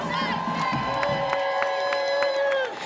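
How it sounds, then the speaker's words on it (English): A crowd at a student march cheers for Virginia students with shrill shouts, long whoops and sustained whistle-like cries, close and lively, with only faint clapping underneath. "Let's give our Virginia students a big round of applause."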